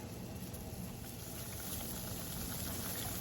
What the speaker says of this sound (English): our mixture has come to a simmer